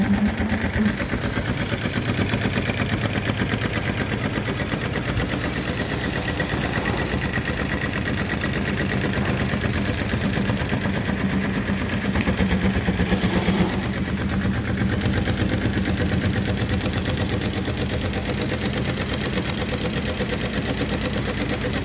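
A Juki AMS224EN industrial sewing machine with a jump foot stitches reflective tape, giving a steady, loud, continuous mechanical whir and rapid needle chatter throughout, with no talking.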